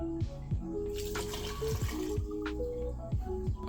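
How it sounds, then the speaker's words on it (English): One cup of water pours and trickles into a blender for chicken tinga sauce, a soft liquid splashing with faint gurgles, fairly quiet. "Along with 1 cup of water."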